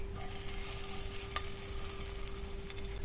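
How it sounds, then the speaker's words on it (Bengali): Puffed rice mixture frying in hot oil on a griddle gives a steady, close hiss of sizzling with faint scraping clicks, continuous throughout and with no voices. "তেলটা গরম হয়ে গেছে, এবার মিশিয়ে রাখা মুড়ি দিয়ে দেবো।"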